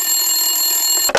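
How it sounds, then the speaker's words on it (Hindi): A telephone bell rings with a steady, bright, continuous tone that breaks into a rattling burst just at the end, close and fairly loud, with no voices. "टेलीफोन की घंटी बजी"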